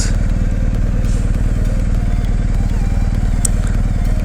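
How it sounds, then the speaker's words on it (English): A 2019 BMW R1250GS Adventure motorcycle rumbles steadily while riding through city traffic, its engine loud and close with a constant throbbing drone and occasional faint clatter. "I love commuting on this bike."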